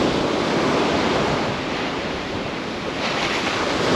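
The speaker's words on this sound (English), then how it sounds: "Got a good east wind today." Steady broadband roar of ocean surf breaking on a beach, driven by a strong east wind buffeting the microphone, continuous and loud with no voices.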